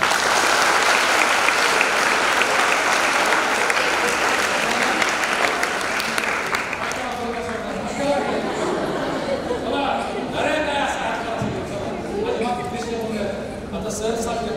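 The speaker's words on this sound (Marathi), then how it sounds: "माझ्या या 5 मित्रांसाठी जोरदार टाळ्या." Students and parents at a school counselling programme break into loud, sustained applause that fills the room, thinning toward the end as chatter and voices rise beneath it.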